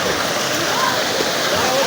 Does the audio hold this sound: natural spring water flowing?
yes